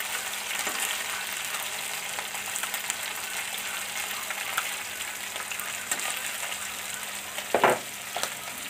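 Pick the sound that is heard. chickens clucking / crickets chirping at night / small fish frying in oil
small fish frying in oil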